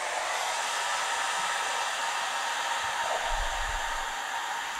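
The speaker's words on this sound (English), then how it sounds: "you could run this hairdryer for about an hour" A hair dryer set to medium heat and low fan runs from a portable power station, a steady, even whoosh of moderate loudness throughout, with no speech.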